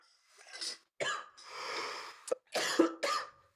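Several throaty coughs from a man, some single and some in short bursts, close and fairly quiet, with brief pauses between them.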